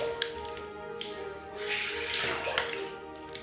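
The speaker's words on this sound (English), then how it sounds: "Just rinse that off." Water runs steadily from a tap, rinsing off after a wet shave, a soft continuous splashing rush with small surges, close by and heard alone.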